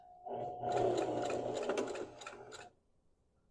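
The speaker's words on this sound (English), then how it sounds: "So now at this point, we will back stitch." A sewing machine runs in a quick, close burst of rapid stitching as it back stitches a coaster made from 6 mm rope, then stops and leaves near silence.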